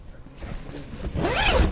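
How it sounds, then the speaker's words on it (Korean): A zipper on a two-person mini rooftop tent (iKamper Skycamp 3.0 mini) mounted on a Ford Ranger Raptor pickup is pulled in one rising, close stroke after a brief quiet rustle. "그 다음에 안쪽 스키는 운전석 쪽 지퍼를 올려주세요."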